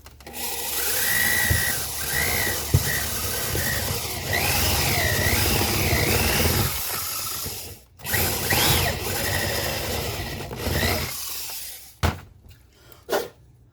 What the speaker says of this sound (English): and drill out the end part